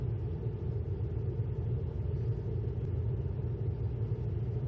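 A 2007 Lincoln Town Car Signature idles slightly high, giving a steady, close, low rumble that holds even throughout with no talking.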